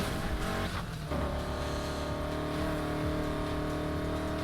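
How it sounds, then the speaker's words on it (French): A race car engine roars loud and constant in Need for Speed Heat, with tires squealing through a drift into a corner and the engine pitch shifting as it accelerates. "si tu veux drifter, écrase la pédale des gaz au prochain virage"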